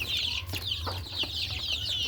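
Caged chicks about a month old peep rapidly and continuously nearby, with a few low clucks and soft scuffles over a steady low hum.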